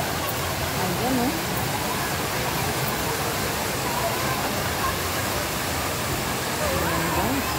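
Water rushes steadily in a strong-current swimming pool, a loud, dense, continuous roar like a waterfall, with voices talking faintly underneath.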